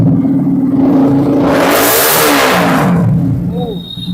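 A 2017 BS4 Royal Enfield Classic 350 motorcycle engine revs up loudly, rising to a peak mid-clip and easing back down, close to the microphone at a second-hand bike showroom.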